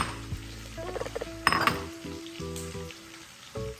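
Pork ribs fry in a kawali, giving a low sizzle broken by clinks and knocks of metal utensils against the pan, with short bright clatters and pauses in between, near and fairly quiet.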